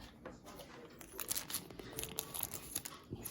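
Scissors snip the corner tip off a plastic piping bag filled with a pasta-shell stuffing mixture, heard as close crinkling and rustling of the plastic with a few small cutting crunches.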